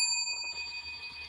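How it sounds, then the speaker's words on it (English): A bell at the end of a song rings with clear sustained metallic tones and a faint ringing decay, heard alone over about a second. "The bell."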